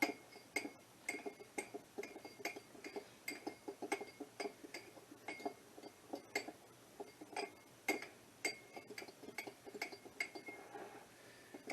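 A fork clinks briskly against a bowl while whisking one egg with a tablespoon of milk, producing quick, rhythmic, close tapping strokes that continue throughout.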